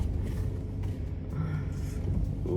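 A truck on a test drive after brake repairs, its engine rumbling low and steady throughout with road noise, close and continuous, no talk.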